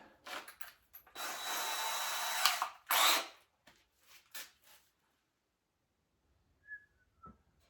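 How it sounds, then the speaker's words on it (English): A power drill bores a smaller hole at one end of a worn workbench top in a home garage, running in loud bursts of about a second and two seconds, then stopping, followed by faint squeaks and a couple of light taps. "I'm going to drill a smaller hole at one end"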